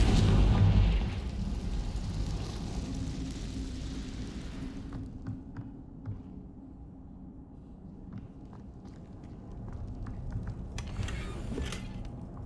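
A Confringo fire spell in the Hogwarts Legacy video game bursts into a loud explosive boom at the start, then rumbles and fades into quieter game ambience with faint scattered sounds.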